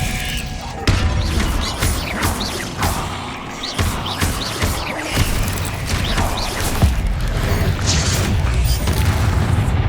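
Spell explosions burst one after another in Hogwarts Legacy, heavy booms and crashing thuds landing in an irregular string over continuous rumbling battle noise.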